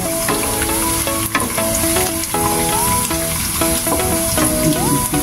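Peppercorns and bay leaf are stirred in a hot frying pan for homemade gourmet tuyo, giving steady loud sizzling with repeated scraping and clinking of the utensil against the pan, alone without talk.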